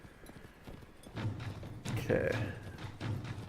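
Horse hooves pound along in Mount & Blade: Warband, a muffled rhythmic clip-clop of a fast-moving mount under game sounds, with someone talking over it briefly.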